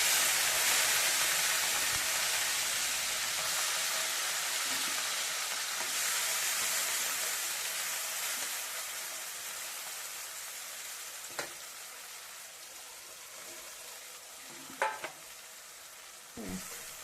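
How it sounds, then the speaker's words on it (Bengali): Small mud shrimp fry in hot mustard oil in a wok, a dense steady sizzle that eases slightly, with a few brief knocks and scrapes near the end. "প্রথমে আমি মাছটাকে ভেজে নেব।"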